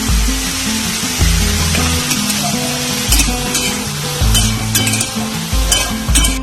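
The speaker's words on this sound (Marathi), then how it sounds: "आता मी सर्व चिरलेले परवळ याच्यात टाकून घेतलेले आता परतून घेऊयाला" Chopped parwal (pointed gourd) sautéing in a hot pan for a healthy bhaji, with a steady sizzle and repeated scraping strokes of a spoon stirring the vegetables, fairly loud and close, no talking.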